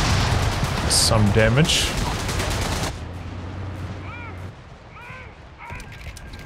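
Gunfire and a commando grenade blast in the real-time strategy game Company of Heroes 3: dense, loud bursts of shooting and explosions early on, easing into scattered shots and whistling effects, with a voice talking over the battle.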